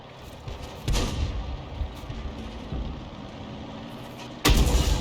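Self-propelled 105 mm leFH18B2 artillery gun firing in a tank video game: two loud, booming low blasts, the second near the end, over a steady rumbling engine-like drone.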